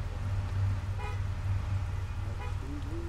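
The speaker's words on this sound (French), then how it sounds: "Abus du klaxon." A car horn honks in a French gendarmerie-themed video game, with toots sounding over a steady low engine drone and some voice-like sounds.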